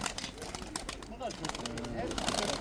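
Grounded young tumbler pigeons that have not flown for three months coo softly in a loft, with short tonal calls rising under someone talking nearby.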